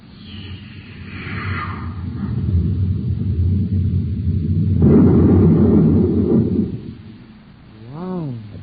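A space torpedo blast from an old radio drama, a long rolling explosive rumble that swells into a heavier roar midway and then fades. A warbling electronic tone rises and falls at the very end.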